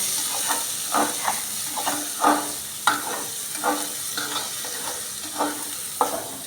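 Rice for Basanti pulao being stirred in a hot pan, with a steady frying sizzle and hiss throughout and repeated scraping spoon strokes about once a second, heard close with no voices.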